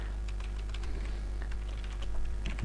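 Computer keyboard typing during coding, a run of quick, light key clicks at an uneven rhythm over a low steady hum, close and fairly quiet.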